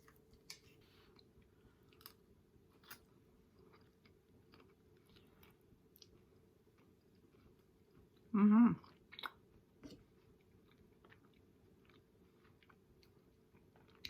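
A bite of sweet potato casserole being chewed close up, soft quiet mouth sounds with one louder crunchy bite burst midway over faint room hum.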